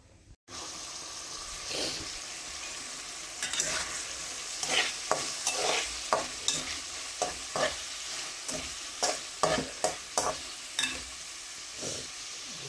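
Fish cooks in a pan with a steady sizzle as a utensil stirs and scrapes against it in a regular series of clinks, close and moderately quiet, with running water in the background.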